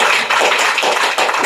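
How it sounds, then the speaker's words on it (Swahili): A church congregation claps for Jesus in a dense, steady burst of many hands, loud and close, with no voices over it. "Yaani nilishaokoka lakini pigia Yesu makofi."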